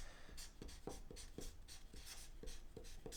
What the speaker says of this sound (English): We can write that down.